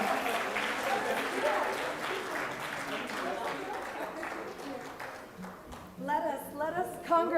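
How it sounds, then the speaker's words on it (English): Applause from a conference audience at a women's event in Bahrain, a dense, steady patter of many hands clapping, fading near the end as a voice begins talking. "Let's give them a warm round of applause"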